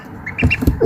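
Short nasal quacks from a duck sound close by, a few quick calls in a row over faint background noise.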